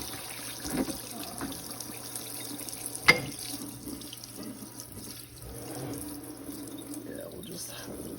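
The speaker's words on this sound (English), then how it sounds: "I'm just going to use some hot water and just hose off this back grill a little bit." Hot water from a hose spraying and splashing over the back grill of a Lasko wall fan, a steady running rush with a sharp clunk partway through.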